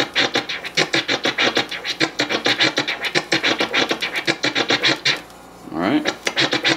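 Slow DJ scratching of a snare drum sample, a dense run of rasping back-and-forth strokes with a brief gap and a rising sweep near the end.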